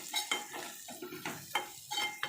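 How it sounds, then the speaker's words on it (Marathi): A spoon stirs a Malvani spice mixture with salt and garam masala in a pan for a goat lung dish, giving repeated scraping strokes and light clinks against the metal, close and steady with no talking. "आता मिश्रण छान एकजीव करून घेऊया आपण"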